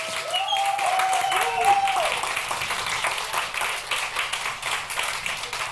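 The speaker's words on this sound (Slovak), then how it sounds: "tento potlesk bol pre celý tento event a pre všetkých, ktorí sa dnes na tom podielali" Audience applause fills the room at a podcast awards event, steady dense clapping from a crowd that carries on evenly, while a voice speaks over the start.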